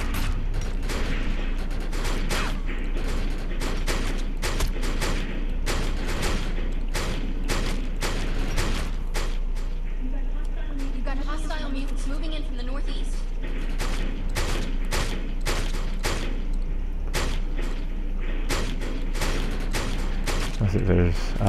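Rapid bursts of gunfire from the video game Defiance crack repeatedly throughout, dense and close, with a voice talking over the shooting.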